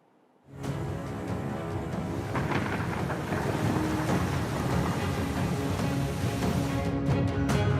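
Heavy rain pouring down during flooding in Balrampur, a dense, steady roar that starts abruptly and continues loud and unbroken, with a few sharp knocks near the end.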